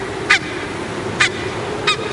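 Three loud, isolated honks from geese nesting on an isolated cliff ledge 500 feet up, each call short and harsh, spaced roughly a second apart over quiet background noise.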